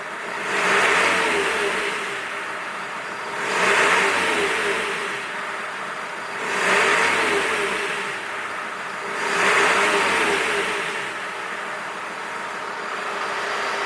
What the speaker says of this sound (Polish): Podam gazu.